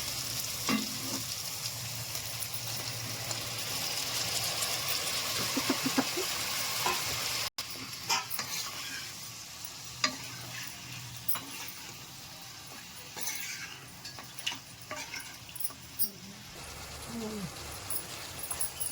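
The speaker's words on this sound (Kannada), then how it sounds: "ನೋಡಿ, ಇದು ಮಟನ್ ಎಲ್ಲ ಚೆನ್ನಾಗಿ ಫ್ರೈ ಆಗ್ತಾಯಿದೆ." Boiled mutton pieces fry in a pan for a gravy, with a loud, continuous sizzle and stirring scrapes in the first half, then a quieter hiss broken by occasional clinks of the spoon.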